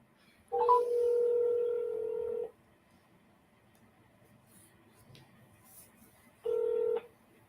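Telephone call tones heard close and clear: a steady tone lasts about two seconds, then after a quiet pause a shorter matching tone follows, with no talking.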